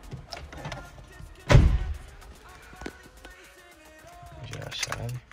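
A Toyota Corolla car door swings shut with one solid thud heard from inside the cabin, set among soft interior rustles and light handling sounds.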